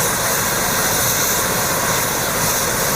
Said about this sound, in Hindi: ये 4 दिन के बाद आज पहली बार स्टार्ट हो रही है हेलीकॉप्टर की राइड।